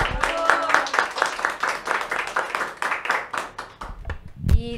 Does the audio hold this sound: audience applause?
yes